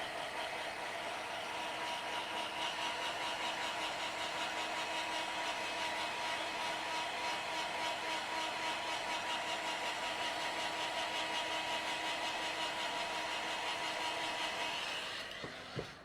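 A handheld drying tool blows air over an autumn craft project, a steady close whirring roar lasting about fifteen seconds before it cuts off.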